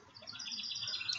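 Birds sing outdoors on a damp, misty morning after rain, a faint but steady run of high chirps and warbling notes that carries on throughout.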